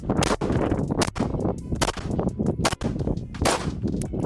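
Several sharp pistol shots from a Staccato P 2011 handgun, loud and close, fired in a quick irregular string over steady background rumble.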